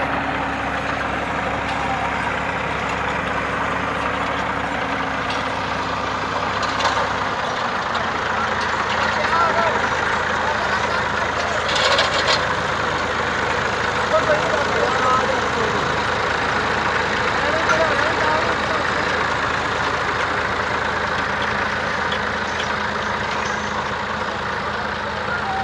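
Two Massey Ferguson 260 tractors run their engines in a field, a continuous low diesel drone with a steady throb that shifts pitch around a third of the way in, while voices talk over it.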